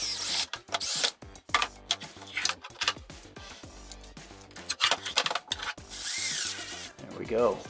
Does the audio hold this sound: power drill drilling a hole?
yes